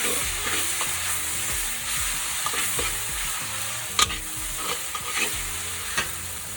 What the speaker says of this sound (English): add your chopped garlic. And let that cook as well for a few minutes